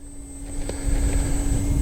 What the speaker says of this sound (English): I'm not even touching nothing and the drone is flying forward here.